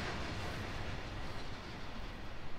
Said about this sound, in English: Bye bye train. Have a safe journey.